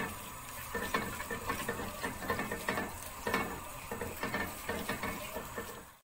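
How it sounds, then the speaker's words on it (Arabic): Sliced onion fries in oil in a pot with a steady, soft sizzle, broken by regular scraping stirs that recur about once a second, close up with no talk. "الحلة دي حطيت فيها بصلاية مقطعة سلايز أو شرايح، هنعمل فيها بصلاية مقلية"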